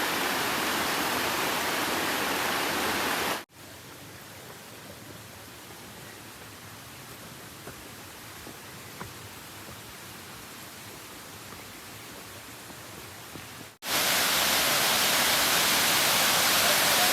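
Broad, steady rush of the Muddy River in northern Oregon flowing, loud at first, dropping to a quieter, more distant flow, then surging back loud.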